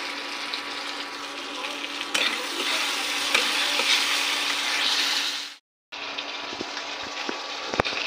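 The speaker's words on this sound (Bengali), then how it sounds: "মাংসটা কষাচ্ছি, আদা রসুনের পেস্ট লঙ্কা দিয়ে দিয়েছি, এবার আমি এটা কষাচ্ছি।" Meat stir-fried in a pan with ginger-garlic paste and chili, a steady loud sizzle with scraping strokes that breaks off briefly near the end, then returns.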